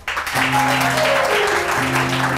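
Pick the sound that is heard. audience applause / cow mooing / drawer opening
audience applause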